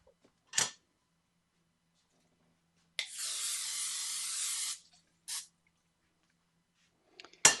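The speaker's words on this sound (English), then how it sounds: "I'm gonna need to spray my pan with the non-stick spray." Short hissing spurts of non-stick cooking spray onto a pan, then a longer steady spray of about two seconds, followed by a couple more quick bursts, close up.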